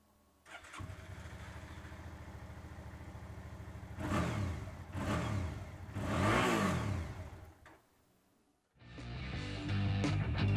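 A 2011 Suzuki DL650 V-Strom 650 motorcycle with ABS starts up and idles, then gives three loud throttle revs. The engine briefly cuts out and fires up again, close and alone with no talking.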